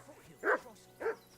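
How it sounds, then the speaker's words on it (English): Dog barking in a video game, two separate loud barks about half a second apart, with no other speech. "Get that mutt of yours to stop barking, will you?"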